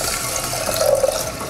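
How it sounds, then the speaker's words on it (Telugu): Water is poured from a vessel onto lightly roasted toor dal in a pan on a stove that has been switched off. It makes a steady, close splashing gush for the whole moment, with no voices. "వాటర్ పోసుకుందాం"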